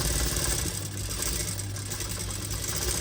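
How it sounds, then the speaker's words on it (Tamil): Sewing machine running steadily while stitching a tie cord for the back of a blouse, a continuous close mechanical whir with a low hum and no pauses. "தைச்ச முடிக்கிறேன்."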